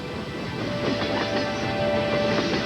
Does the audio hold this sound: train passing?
yes